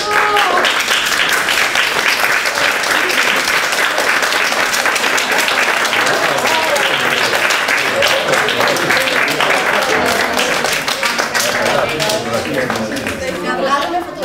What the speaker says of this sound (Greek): Ευχαριστούμε, χειροκρότημα.